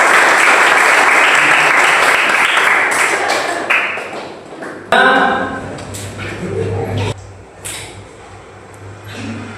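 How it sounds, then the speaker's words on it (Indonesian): Audience applause for the winning group in a classroom lesson, a loud burst of clapping that fades, then picks up again in scattered waves with some voices over it. "Tepuk tangan untuk kelompok 2."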